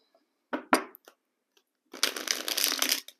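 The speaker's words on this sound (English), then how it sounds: "One more shuffle." Tarot cards are handled and shuffled nearby, with a couple of sharp snaps and flicks followed by a dense, rapid riffling rush lasting about a second, with no talk.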